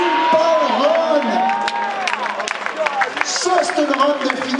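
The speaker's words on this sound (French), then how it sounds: "Une bonne main d'applaudissements à Tony Boisvert-Bellemare qui vient de faire une run parfaite" A crowd at a Formula Drift Canada qualifying session cheers and applauds after a drift run, with scattered whoops and clapping throughout, partly under a loud voice talking.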